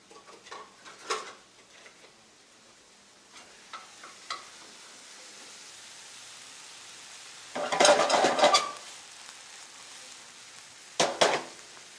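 Ground beef browning in a pan for holiday football-game appetizers, with bursts of scraping stirring and sizzle around the middle and again near the end, separated by quieter stretches of faint clatter.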